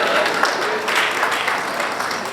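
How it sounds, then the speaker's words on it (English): A crowd at a bar week opening ceremony gives sustained applause, a steady, dense wash of clapping hands that stays close and fairly loud throughout. "Are you sure that is how to clap for the owner of the ship?"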